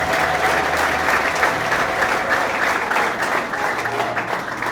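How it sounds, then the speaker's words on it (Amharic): A church congregation at a prophecy service claps for God's glory: continuous, even applause from many hands, close and loud throughout. "ለእግዚአብሔር ክብር አጨብጭቡለት።"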